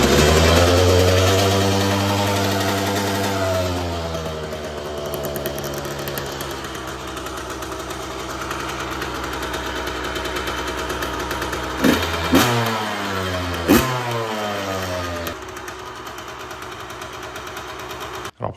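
A Yamaha 125 YZ two-stroke motocross motorcycle, its silencer packing due for replacement, idles loud and close with falling and rising pitch, then revs sharply in a few quick blips before cutting off.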